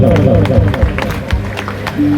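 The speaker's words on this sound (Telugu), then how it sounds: "చప్పట్లు కొడతాం." An audience claps in a short run of sharp hand claps during a wedding game in Dulla village, East Godavari. The claps ring out over a background of music and crowd murmur.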